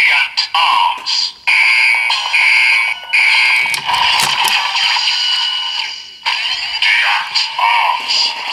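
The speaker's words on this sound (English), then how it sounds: "we can also use one of these smaller buckles in Seeker mode, as it does make a different sound" A Kamen Rider Geats DX Powered Builder Buckle toy in Seeker mode plays loud electronic sound effects and a jingle, with bright tonal chimes and a voice-like announcement running through most of the stretch.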